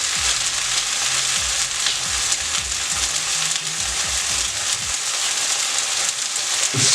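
Portuguese vindaloo sauce sizzles and fries steadily in a hot pan as it is scraped in, a dense continuous hiss with faint scraping knocks underneath, no talking.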